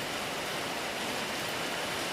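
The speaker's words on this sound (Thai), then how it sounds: "อันนี้ภาพบรรยากาศฝนตกแล้วนะครับ" Rain falling in Sakon Nakhon, Thailand, heard as a steady, even hiss of drops with no voices, soft and constant throughout.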